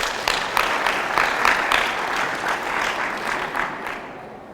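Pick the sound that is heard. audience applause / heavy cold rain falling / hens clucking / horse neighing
audience applause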